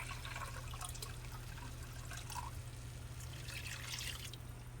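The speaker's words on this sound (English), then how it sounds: "And we're gonna add another cup of water." A cup of water is poured into a pan of cooked meat for shepherd's pie. The soft, steady splashing trickle lasts the whole time, fairly faint over a low kitchen hum.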